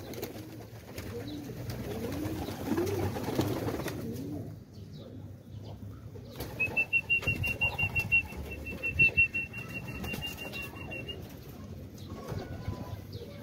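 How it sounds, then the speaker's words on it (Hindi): Pigeons flap their wings in bursts of rapid beats as they take off, with a thin whistle passing over and soft outdoor background noise. "ये देख रहे हैं कबूतर जो ऊंचा उठ रहे हैं ना"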